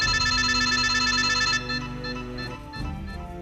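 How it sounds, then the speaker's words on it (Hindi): A telephone rings loudly and steadily for about a second and a half, then stops, leaving quieter mixed background sounds. "अब किसने फोन किया?"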